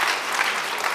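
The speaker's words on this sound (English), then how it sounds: "You can applaud that too" Audience applause fills a convocation hall at a 2022 college event, a dense, steady clapping from a large crowd close at hand throughout.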